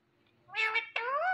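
A parrot imitates a cat, giving two clear, nasal meows with rising and falling pitch, close and distinct against a quiet background.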